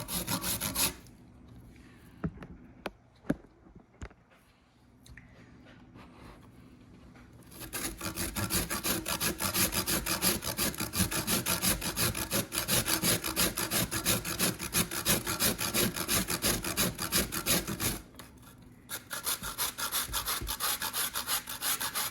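Frozen fresh ginger root scraped hard against a grater, starting with a few scattered rasps and then settling into long, steady, loud grating strokes that carry on with a short pause near the end.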